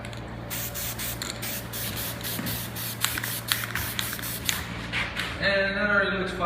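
An aerosol spray can hisses in a run of rapid short bursts into the center AC vent of a 1970–72 Chevrolet Chevelle, with a low steady hum beneath and a brief rattle at the end.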